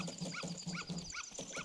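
A dog barks repeatedly in The Legend of Zelda: Majora's Mask, short rhythmic yaps about every third of a second, mixed with game music and ambient tones at moderate level.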